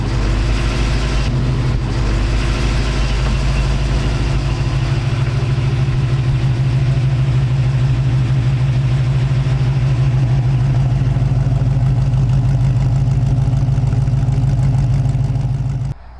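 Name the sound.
350 Chevy V8 engine idling in 1936 Ford coupe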